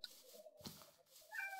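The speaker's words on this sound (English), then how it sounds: "Stop meowing." A cat in the video game Minecraft meows twice, one short, fairly loud meow and then a higher, drawn-out mewing call, close by and with no talking.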